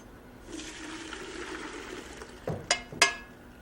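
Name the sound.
water being drained off cooked noodles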